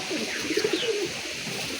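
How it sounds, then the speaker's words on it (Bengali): Soft, low cooing from a kaldama pigeon, a few breathy coo notes rising and falling close by over a light background hiss, with no voices. "এই দেখুন কালদমা পায়রা"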